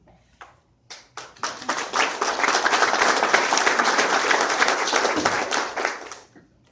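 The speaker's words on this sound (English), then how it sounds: "thank you very much for that round of applause" A few isolated claps build into full applause from the audience at a city candidate forum, a dense, even round of clapping that holds for several seconds before tapering off to a few last claps.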